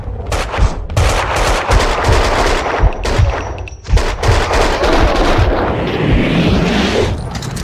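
Rapid bursts of gunfire from the video game Max Payne 2 crackle almost nonstop, loud and close, with heavier booming shots scattered through the barrage.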